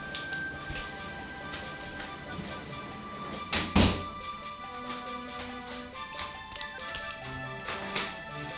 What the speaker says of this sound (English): Okay, I gotta close the door.